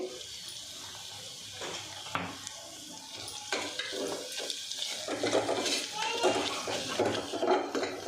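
Turmeric added to ginger paste frying in a pan, soft sizzling under scraping and stirring of a spatula, with clinks against the pan and someone talking over it.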